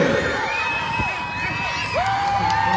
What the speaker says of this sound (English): You can hear all the locals cheering for Carl.